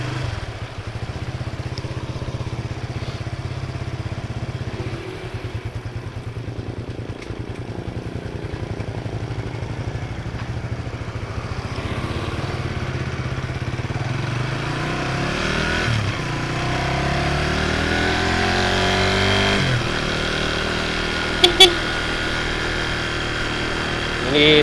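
A Suzuki FU 150 FI motorcycle fitted with a Honda 12-hole injector runs steadily on a cold morning after warming up, its engine note rising in pitch later on, close and loud throughout.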